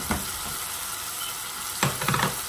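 Tomato goes into a pan of frying chicken and chana dal seasoned with turmeric: a steady close sizzle broken by two short bursts of stirring, with no talking.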